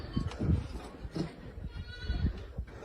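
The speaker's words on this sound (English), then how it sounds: "You hear the desperate cries of a sheep" A sheep cries out in distress under attack by a black bear at night, its bleats coming in several ragged, strained bursts that are close and fairly loud against a rough background.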